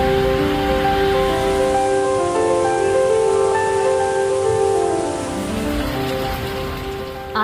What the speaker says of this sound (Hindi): आसमान में काले घने बादल और झमाझम बारिश से दिल्ली एनसीआर का मौसम न सिर्फ सुहाना हुआ